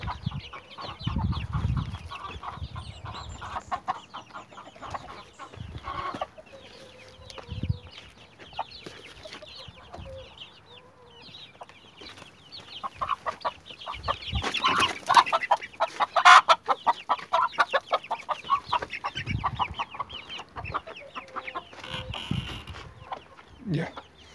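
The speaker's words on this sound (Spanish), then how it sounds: "Ahí quedaron casi todos los pollitos." Hens cluck steadily nearby while chicks peep in a busy, continuous chorus, with a few louder bursts of activity and occasional scuffling.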